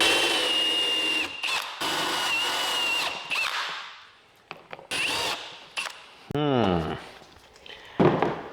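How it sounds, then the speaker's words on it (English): A power drill bores a hole in a part from a Datsun 520, whining loudly in long runs that start and stop. Short pauses and a few clanks break up the drilling. "The drill was certainly a better approach on this situation."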